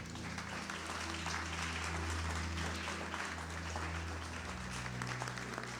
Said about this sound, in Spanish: ¿Cuántos pueden dar un aplauso al Rey, mis hermanos?